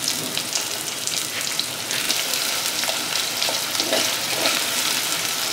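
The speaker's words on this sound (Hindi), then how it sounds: "प्याज को मैं थोड़ा सा फ्राई करूँगा" Chopped onion frying in roasted spices for chicken pulao, a dense, steady crackling sizzle close to the pan with soft stirring scrapes, no talk.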